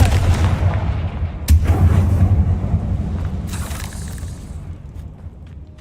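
A Confringo blasting spell explodes in a Harry Potter video game with a loud, deep boom and rumble. A second blast follows about two seconds later, then a long fading roar and debris hiss, with no voices present.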